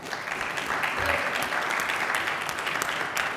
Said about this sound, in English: I think we should give everyone a huge round of applause for enrolling to the study.